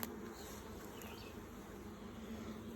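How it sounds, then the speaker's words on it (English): Carniolan honeybees buzz around an open hive during a spring hive inspection, a steady, soft, continuous hum of many bees with no talking. "the most amount of bees will be out of the hive at this time"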